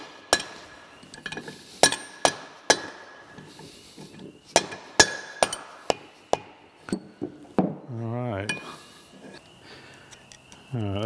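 A hammer taps a part into the tailstock of a Monarch lathe: about a dozen sharp, close metallic knocks at uneven intervals in a quiet workshop, followed by brief vocal sounds near the end.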